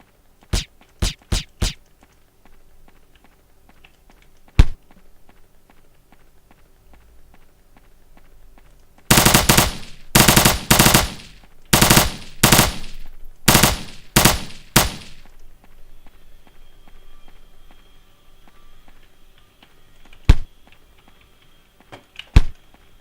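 A gun firing in a shooting video game: a few scattered single shots, then a dense rapid burst of loud, sharp reports lasting several seconds, followed by isolated shots and quieter background game sounds.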